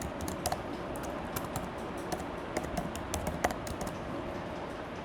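Rapid keyboard typing on a computer while a web login form is being coded, with crisp, irregular clacks in quick bursts close to the microphone over a soft background hiss and no talking.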